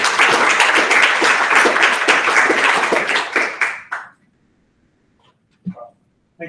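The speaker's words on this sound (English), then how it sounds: "So please give a great applause." Audience applause for a keynote speaker at a morning conference session fills the room with dense, sustained clapping that thins and fades out after about four seconds, followed by near silence and a couple of faint bumps.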